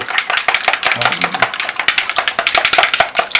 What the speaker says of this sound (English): To start with, I'm going to scramble 6 eggs. You can see I use my chopsticks.